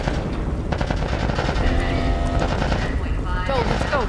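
Dense, sustained automatic gunfire in The Last of Us Part 1, rapid loud bursts overlapping with one another and running the whole stretch, with voices mixed into the chaos.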